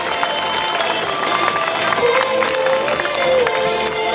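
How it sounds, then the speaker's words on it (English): A crowd applauding and cheering at a LEGO robotics team event, dense clapping with scattered voices mixed in, steady throughout. "So big round of applause for Cats Love Legos."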